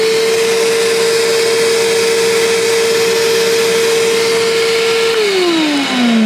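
Compressed air blasts steadily through an exhaust header, a loud continuous rushing hiss with a strong steady whistle tone that drops in pitch toward the end as the flow tapers off.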